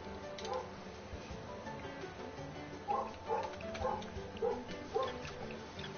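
Dog barking and yipping in a series of short, fairly loud bursts through the second half, over a background of game sounds and indistinct room noise.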